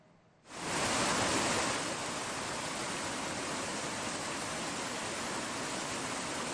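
A lahar flood torrent from Semeru rushes down the Rezali river in Lumajang as a loud, dense, unbroken roar that starts abruptly and holds steady close by.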